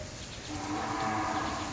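At a cow shelter (gaushala) in Wankaner village, a cow gives a brief, low moo that rises out of a steady, muffled background.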